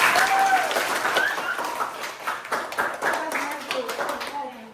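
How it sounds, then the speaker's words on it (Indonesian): An audience at a presentation claps in a moderate burst of overlapping hand claps that fades gradually, with a voice talking over the applause. "Nah, beri tepuk tangan."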